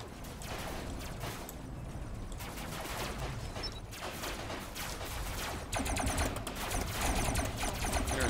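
Hovercraft guns in the Robocraft video game fire in a rapid, steady crackling burst, fairly faint and continuous, with the barrage growing louder and busier near the end.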